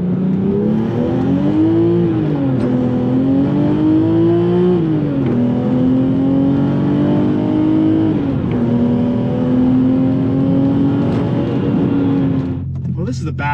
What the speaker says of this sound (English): Today we are driving a super special M3 Lightweight.